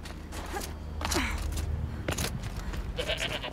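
A goat in the video game Horizon Zero Dawn bleats in a few short, wavering calls over a dense bed of ambient game noise and low rumble.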